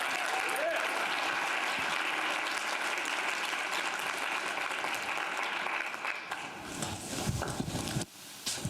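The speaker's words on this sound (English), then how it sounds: "So first, let's give Jessica one more round of applause" Crowd at a summit event applauding after a talk, a long even wash of clapping that thins out near the end as a few isolated claps and room noise remain.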